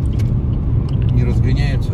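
A Chery Tiggo 7 Pro with about 19,000 km on it drives while accelerating slowly and shaking with vibration, giving a steady low engine and road rumble inside the cabin with faint voices over it.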